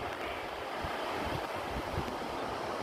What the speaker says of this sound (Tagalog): Lumalaki ang alon pero lumiliit ang tubig.